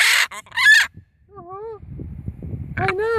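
A blue and gold macaw squawks loudly and harshly at birds outside, giving a couple of raspy screeches close by, then a few higher calls over soft rustling.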